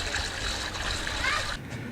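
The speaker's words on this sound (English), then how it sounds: "we've roughed in the pond liner and just filling it with water" Water splashes and pours steadily into a garden pond liner for a small solar-powered goldfish pond, a continuous close splashing and trickling that eases off slightly near the end.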